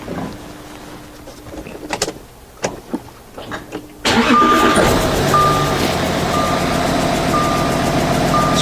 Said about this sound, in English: So now let's start the engine and see what happens.